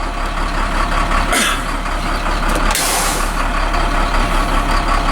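A truck's air brake lets out two sharp, loud hissing bursts a little over a second apart, over the steady low drone of an idling diesel engine on a Class B vehicle.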